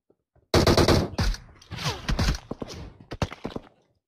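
Rapid automatic gunfire in PUBG Mobile during an intense squad fight: loud, close bursts of sharp shots in uneven clusters with brief gaps, trailing off into scattered single cracks.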